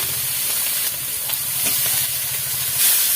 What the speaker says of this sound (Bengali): আমি এই তরকারি চাপাচ্ছি, মাছের ঝাল চাপাচ্ছি